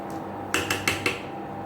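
Sliced tomatoes being stirred in a pot for mutton dalcha, heard as four sharp spoon-on-metal clinks in quick succession over a quiet background.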